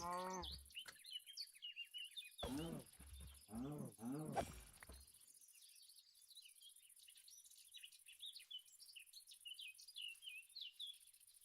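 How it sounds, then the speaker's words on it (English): Small birds chirp outdoors in rapid, repeated tweets and trills, fairly close and continuous, with a louder animal-like call near the start and busy chatter through the rest. "Those darn birds, that's all I can hear right now."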